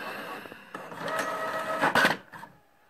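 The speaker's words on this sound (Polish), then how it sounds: "Właśnie się drukuje w drukaretce." A Brother printer prints a test page, running steadily with mechanical whirring and clicking that swells in bursts as the print head moves, then winds down into quiet.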